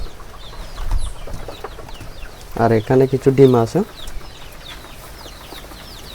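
Domestic pigeons and their growing chicks sit in a loft, a short burst of loud squabbling calls and wing flurries rising for about a second amid faint scratching, with someone talking quietly.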